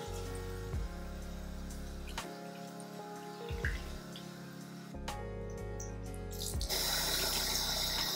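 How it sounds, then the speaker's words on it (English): Running tap water splashes steadily into a sink as bleached tie-dye shirts are rinsed, the flow changing in pitch and texture as the fabric moves under the stream, with no talking. "I'm gonna rinse off all three shirts"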